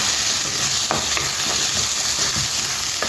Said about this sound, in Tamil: வெங்காயம் போட்டு நல்லா வதக்குவோம்